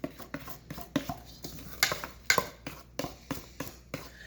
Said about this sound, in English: Mix together before we go to the next step.